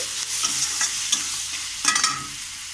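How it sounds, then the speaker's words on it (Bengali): Spices with salt, turmeric and chili powder fry in a pan for a prawn curry, a steady close sizzle with scraping stirs and a few sharper metallic knocks, no voices. "লবণ দিলাম, হলুদ গুঁড়ো দিলাম, লঙ্কার গুঁড়ো দিলাম, দিয়ে আমি ভালো করে মশলাগুলোকে কষিয়ে নেব"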